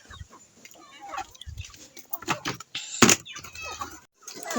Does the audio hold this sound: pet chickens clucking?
yes